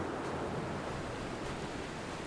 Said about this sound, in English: Oh, that's very windy.